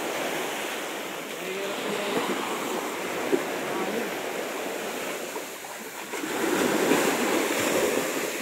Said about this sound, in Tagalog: Kaso sobrang alon.